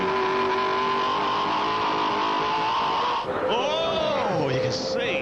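A V8 Supercar race car thundering up Mountain Straight at Bathurst during a 2002 shootout: a loud, steady engine drone under continuous commentary, with the pitch sweeping and shifting near the end.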